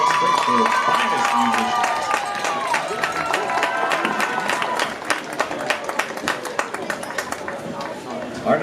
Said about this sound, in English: let's give one more round of applause for this representation of Springfield's finest